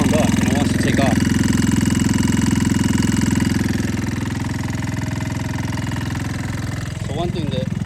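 A Talon GSX 150R2 engine, warmed up, idles steadily and loud up close with a constant low drone, settling slightly quieter midway, while a faint voice talks briefly over it.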